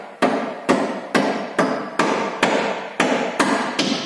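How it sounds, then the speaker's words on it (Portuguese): A small rubber mallet strikes a suspension part on a 2012 Ford New Fiesta, eight sharp, evenly spaced blows about half a second apart, close and loud with no talking. "Peguei a marretinha de borracha."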